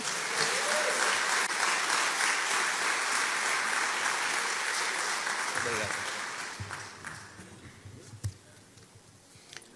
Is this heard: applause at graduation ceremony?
yes